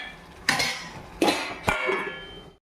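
Metal lid set onto a cooking pot of Andhra-style mutton curry, three separate clanks and clatters in quick succession, close and fairly loud, with no talking.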